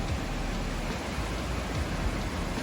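Steady roar of Hurricane Milton's wind-driven rain in Tampa Bay, Florida, a dense broadband hiss with faint low gusts rumbling underneath, constant and close throughout.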